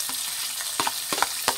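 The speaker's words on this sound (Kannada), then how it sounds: "ಈರುಳ್ಳಿನ ಎಣ್ಣೆ ಚೆನ್ನಾಗಿ ಫ್ರೈ ಮಾಡಬೇಕಾಗುತ್ತೆ." Chopped onion and a green chili fry in hot oil, a soft steady sizzle with a few sharp stirring scrapes, close by.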